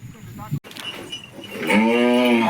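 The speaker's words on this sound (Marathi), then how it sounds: "आता गुरु सोडले चरायला" Bullocks let out to graze, one giving a loud, long, low moo near the end after quieter shuffling and a brief murmur of a voice.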